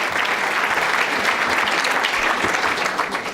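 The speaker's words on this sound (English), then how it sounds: "let's give our panelists, Josh, a big round of applause" A big, dense round of applause from an audience for a philanthropy panel's panelists, loud and sustained throughout.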